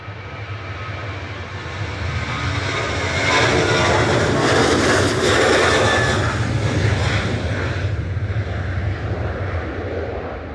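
An airliner rolls for takeoff at Manchester Airport bound for Alicante, its jet engines swelling into a loud, broad roar that peaks midway and then slowly fades as it moves off.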